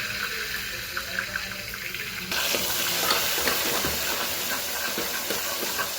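Asafoetida tempering sizzling in hot oil inside a covered pan, a steady close hiss with crackling pops that grows louder and denser partway through, continuing without speech.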